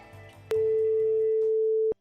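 A telephone handset gives a click, then a steady, unbroken line tone that holds for about a second and a half and ends with another click, heard in a quiet room during a dramatized story.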